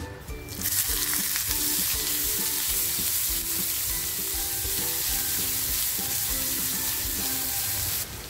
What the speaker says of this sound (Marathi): थोडंसं तेल टाकते. तेल छान तापलेलं आहे. 1 वाटी कांदा कापून घेतलेला आहे मी.